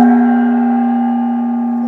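A gong struck dead center, heard during a live auction, rings out with a loud, steady tone rich in overtones that slowly fades, with no talk over it.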